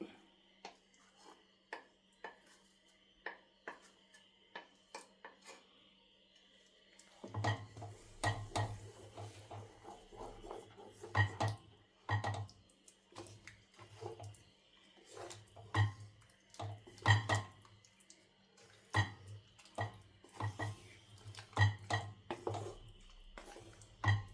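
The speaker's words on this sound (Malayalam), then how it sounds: "അതൊക്കെ കൂടെ തന്നെ നമ്മുടെ ഉള്ളി, ഇഞ്ചി, വെളുത്തുള്ളിയും കൂടെ അരച്ച് വെച്ചിരിക്കുന്നതും കൂടെ ഇട്ട് ഇളക്കി കൊടുക്കാം." Ground onion, ginger and garlic paste being stirred into chicken curry in a pot, with a spoon scraping and knocking against the metal in irregular bursts after a quiet start, joined by soft wet squishing.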